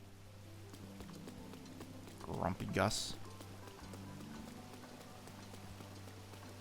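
Rain falls steadily in The Legend of Zelda: Breath of the Wild, a soft constant patter under footsteps or hoofbeats, with a brief spoken line partway through.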